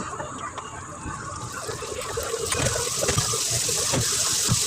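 Running tap water splashes and gushes at a kitchen sink while plates are rinsed, a steady close wash that grows slightly louder, with a few faint clinks and no talking.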